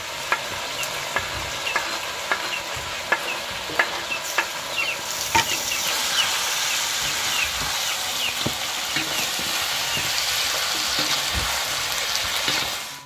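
Tilapia fillets fry in spice paste in a pan, a steady bright sizzle with scattered pops and crackles and occasional stirring scrapes, close and continuous with no talking.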